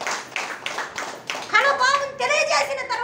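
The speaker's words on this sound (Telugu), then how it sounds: "చప్పట్లు కొట్టి దేవుని స్తుతించండి." A church congregation claps hands in praise, quick irregular bursts of claps filling the room while a preacher speaks loudly over them.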